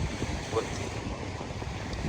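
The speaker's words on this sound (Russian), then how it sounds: "Вот волны, пожалуйста." Steady rushing lake surf on Issyk-Kul at Cholpon-Ata with wind noise, continuous and moderately loud, no distinct breaks between waves.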